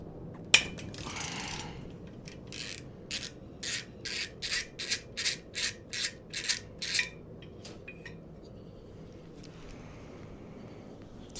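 A wrench ratchets in short rhythmic bursts, about ten evenly spaced clicking rasps, while the cylinder head nuts come off a 1991 Polaris Trail Boss 250 ATV engine. The sound is close and fairly quiet, and no one speaks.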